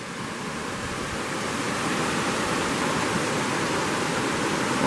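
A river in a June campsite setting runs milky with snow runoff, a steady, dense rushing roar that fills the scene evenly and grows slightly louder, with no voices.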